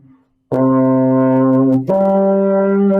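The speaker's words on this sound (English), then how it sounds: "That is the baritone." Baritone (euphonium), a three-valved brass horn, sustains a loud, steady low note, breaks briefly, then moves to a second low note held alone and close.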